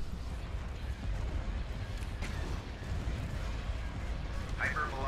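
Hypervelocity cannon firing in the Star Wars strategy game Thrawn's Revenge, heavy low booming shots rumbling under battle noise, with a voice speaking over it.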